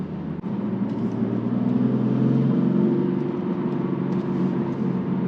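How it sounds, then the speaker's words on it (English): Steady engine and intake drone from a BMW M4 with the S55 engine and a plug-and-play Stage 1 tune, a continuous close rumble that swells slightly mid-way, with no talking. "I think I hear more intake noise"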